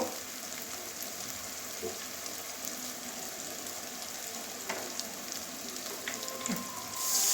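Spice masala with a little water sautéing in a pan for dhaniya chicken, a soft, even sizzle and bubbling hiss throughout with a few faint spoon scrapes, no voices.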